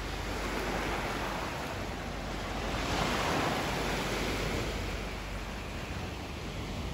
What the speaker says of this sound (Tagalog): High tide. Kaya dito ang alon sa baybayin.